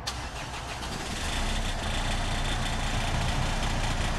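Engine started up after new glow plugs are fitted, a steady close mechanical churn that swells slightly after the first second and then runs evenly, with no speech.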